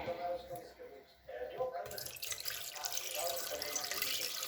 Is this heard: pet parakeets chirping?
no